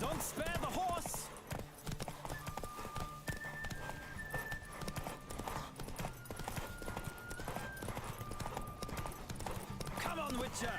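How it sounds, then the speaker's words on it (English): Hooves pounding in a fast steady gallop from a horse in The Witcher 3, sustained over background music, with voices speaking over the running and a brief neigh at the close. "Don't spare the horse!"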